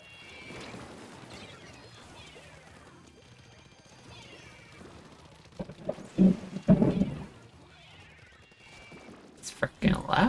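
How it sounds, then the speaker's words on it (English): Thunder rumbles and crashes during a storm with rain, low and booming, building to loud cracks near the end beneath a steady wash of game noise. "The thunder is so loud."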